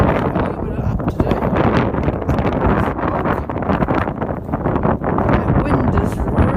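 Strong wind sweeps the open fells near Styhead Tarn in the Lake District, buffeting the microphone with a loud, rough, unbroken rush that pulses in uneven gusts.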